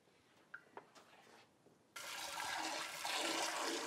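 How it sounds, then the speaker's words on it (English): Water gushes through a GrowoniX EX400 carbon filter being flushed. It starts abruptly halfway through after a few faint clicks, then holds as a loud, steady rushing flow. "we're gonna let this run for about 20 gallons until the carbon stream is really clear"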